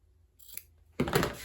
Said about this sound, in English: And so I'm just cutting it parallel